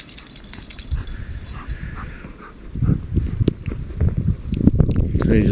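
Three rescue dogs, two German Shepherds and a mixed breed, romping in deep snow during a storm, with scuffling paws, thumps and brief whimpers, close and fairly busy.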